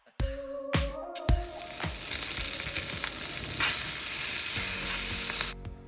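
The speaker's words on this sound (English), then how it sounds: "Remove the chicken and add in the onions to saute them in the same pan in the same juices." Onions hit a hot pan and sauté in the juices left from browned chicken, a loud, dense sizzle rising after a few clacks of utensils and running steadily until it stops sharply near the end.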